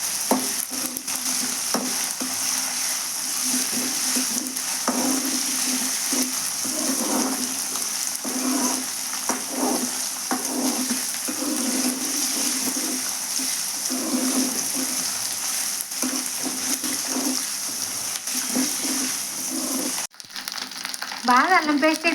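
Curry leaf sprigs fry hard in hot oil in a pan, a loud continuous sizzle and crackle broken by repeated scraping strokes of a spoon being stirred, with a brief clatter near the end.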